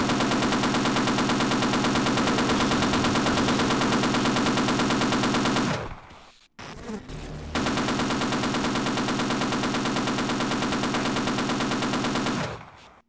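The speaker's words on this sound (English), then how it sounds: "So now I'm behind the machine gun." Sustained machine gun fire in Half-Life, loud and continuous for about six seconds, a brief break with scattered impacts, then another long unbroken burst that cuts off.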